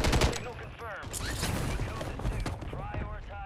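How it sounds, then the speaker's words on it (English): Dense crackling gunfire in Call of Duty, sniper rifle shots mixed with rapid bursts from several directions, continuous and loud through the whole stretch, with chirpy game effects and some voice underneath. "Oh, I'm getting sniped out from multiple angles here."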